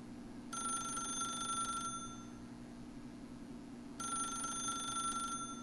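A telephone in the video game The Stanley Parable rings twice, each electronic ring lasting about a second and a half with a long silent gap between them, clear over a low background hum.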